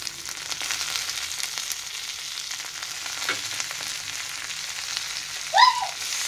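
Capsicum frying with onion and garlic in a pan gives a steady, even sizzle that runs throughout, with a brief scrape or stir near the end and no talking.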